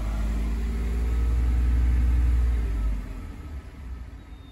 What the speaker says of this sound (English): Let me give it a little rev